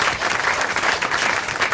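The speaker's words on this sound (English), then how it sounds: "give a big round of applause to the Student Association" An audience at a panel event on the Ukraine crisis claps steadily, a dense and even wash of applause that holds at a constant level for the whole stretch, with no voices rising above it.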